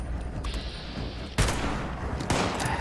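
Two loud hunting-rifle shots crack in the Fallout 76 video game, spaced about a second apart over steady background ambience, with no speech.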